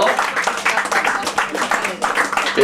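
An indoor audience applauds a cameraman with steady, mid-distance clapping that continues throughout, mixed with voices.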